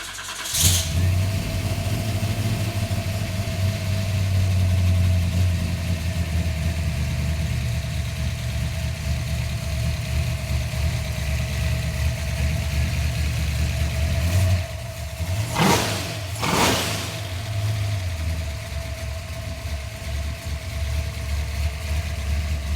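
Holden HDT VL Calais Sport catching on a short crank and settling into a steady, rumbling idle up close, with a couple of brief sharp revs blipped near the end before it drops back to a constant idle.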